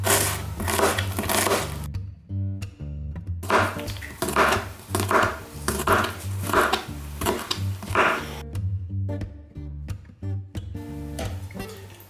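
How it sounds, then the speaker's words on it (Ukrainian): Quick rhythmic knife chops on a cutting board, slicing onion and garlic in bursts with brief pauses between, close and clear, no talking. "а ми тим часом наріжемо цибулю та часник."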